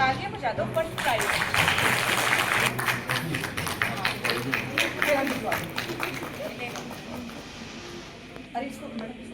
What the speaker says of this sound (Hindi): मैम तालियां बजा दो फर्स्ट प्राइज